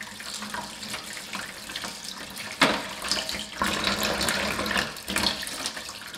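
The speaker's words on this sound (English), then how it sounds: "remove from the wrap and give the straps a thorough rinse" Tap water runs into a sink while watch straps are rinsed, a continuous close splashing hiss that shifts in intensity as the straps move under the stream.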